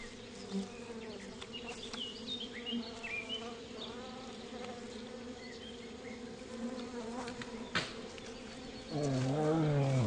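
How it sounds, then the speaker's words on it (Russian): Angry bees swarming at a wild hive in a Bashkortostan forest, a dense droning buzz with shifting wingbeat tones, a sharp rise into a louder, growling roar in the final second. "Но внутри нет ничего, кроме сердитых пчел."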